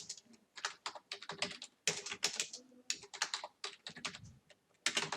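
Close, brisk typing on a computer keyboard, with quick irregular clusters of key clicks broken by short pauses, heard alone without talking.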